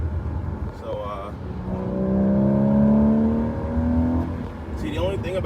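A naturally aspirated Porsche 981 Boxster engine revs up with a rising whine through the gears in a canyon, loud and close, then fades, with brief talk at the start and end.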